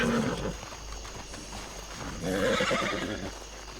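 A horse in the RedM game gives a whinny, with possible hoof clip-clops mixed into a steady outdoor din. The whinny swells loudly near the end, and no voices are heard.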